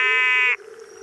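A Main's frog calls in the Australian desert, one loud close harmonic croak lasting about half a second, then quiet ambient night sound.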